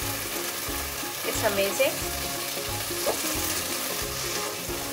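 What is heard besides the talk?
masala frying and sizzling in oil for chicken dhaniya adraki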